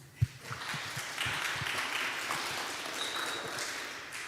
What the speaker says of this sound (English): Nice little round of applause for Connor onto the dev bootcamp.